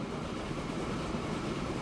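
A locomotive with no cab runs steadily in Transport Fever 2, a continuous close rail rumble with a faint clickety-clack rhythm and no voices over it.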